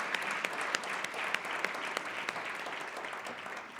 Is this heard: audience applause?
yes